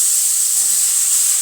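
Tomato puree sizzles in hot oil with tempering spices, giving one loud, even, continuous hiss up close that holds steady from start to finish without voices.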